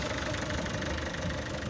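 A car engine runs steadily during a hydrogen decarbonization cleaning, a loud, continuous rough rumble with no distinct rev rise, alone without voices.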